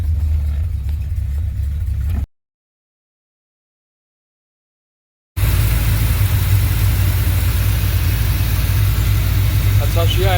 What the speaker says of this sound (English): That's how she idles.